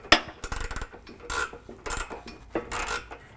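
A ratchet wrench with a 13 mm socket tightens a bolt on a Havoc HS3 hoop step being fitted to a Ford F-150 SuperCrew, giving close, quick bursts of clicking with short pauses between strokes, no talk.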